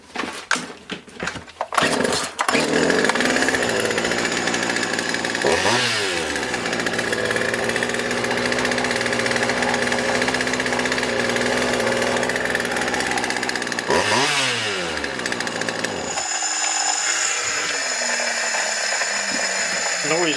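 A Craftsman 2.2 36cc chainsaw, freshly repaired with a new carburetor and fuel lines, is pulled a few times, then starts and runs loudly with a steady idle and two rising revs.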